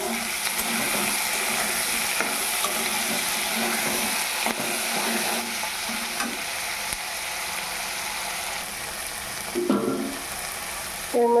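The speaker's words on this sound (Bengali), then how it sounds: "এখন ভালো করে মিশিয়ে ভাজা ভাজা করে নেব" Onion, garlic and chopped green chilli frying and being stirred in a pan, a steady sizzling hiss that runs throughout with occasional scraping clatter of the spatula, close and fairly quiet, no voices.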